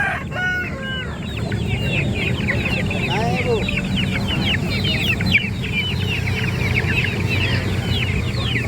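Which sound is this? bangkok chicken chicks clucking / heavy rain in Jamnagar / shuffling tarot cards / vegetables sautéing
bangkok chicken chicks clucking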